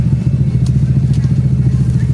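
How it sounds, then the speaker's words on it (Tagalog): A motorcycle engine runs close by with a steady, throbbing low rumble that holds even throughout, with faint clicks and clatter on top. "ingay naman motor"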